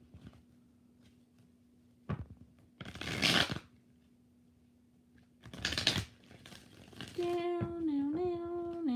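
Tarot cards shuffled four times in close sequence, each a short crisp riffling burst standing out from a quiet room with a low steady hum, followed by a melodic electronic tone at the end.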